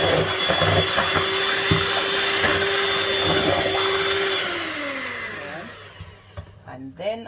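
An electric mixer blends vanilla into Jamaican black fruit cake batter with a steady, loud motor whir that holds for several seconds, then winds down and stops, with brief talk near the start and after it ends.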